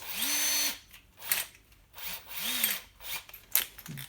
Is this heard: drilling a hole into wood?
yes